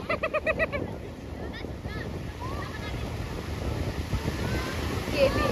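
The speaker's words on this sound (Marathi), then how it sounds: "लाटा कमी होतात रे इथे येताना." Surf rolls in steadily at Devgad beach, a continuous broadband wash of breaking waves with wind buffeting the microphone, while voices talk over it near the start.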